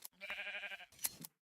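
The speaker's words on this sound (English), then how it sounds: "Let me get some shears and cut some wool off these sheep while I'm rambling." Sheep in a blocky sandbox survival game bleat as their wool is sheared: a wavering bleat, then a short snip and a second quick bleat, clear and close.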